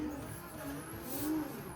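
A car in a sim racing drift game holds a steady engine drone with a faint rising rev near the end, quiet and even, under a thin high-pitched whine.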